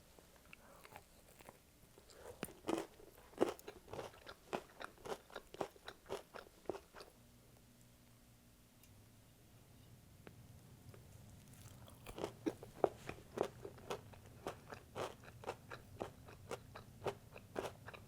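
Close, crisp crunching and chewing of crunchy chicken wings, with repeated bites and chews, pausing briefly in the middle before resuming.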